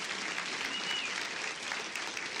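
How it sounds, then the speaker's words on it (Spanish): Congregation at a church service applauding the volunteer servers, a steady, dense wash of many hands clapping throughout, moderately distant and without speech over it. "Vamos a darle un fuerte aplauso, mis hermanos"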